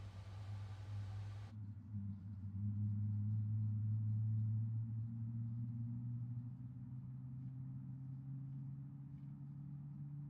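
In Microsoft Flight Simulator, a Boeing 777's engines start: a low, steady hum and rumble builds and holds after a brief burst of broadband noise, spooling up to a constant drone.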